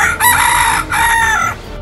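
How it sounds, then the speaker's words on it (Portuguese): A rooster crows twice in a row after a solar eclipse, loud and close, each call long and drawn out with a brief pause between them. "15 minutos após o eclipse, o galo pulou em seu puleiro e começou a cantar."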